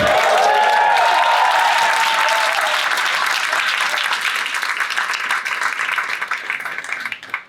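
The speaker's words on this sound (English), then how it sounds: "Let's give them a round of applause." Loud, sustained applause from an audience at a New York City political fundraiser, given for the campaign canvassers; dense clapping fills the room, then thins and fades toward the end.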